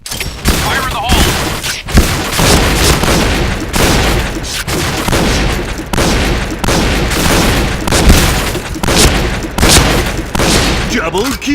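Grenade blasts in the shooter game Point Blank, loud booming bursts packed among dense, continuous gunfire across the whole stretch, with only brief dips between heavy volleys.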